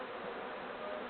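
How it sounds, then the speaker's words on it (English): Honeybees in an opened hive during a spring inspection give a dense, steady buzzing hum, close and continuous, with no voices. "Just playing with the bees."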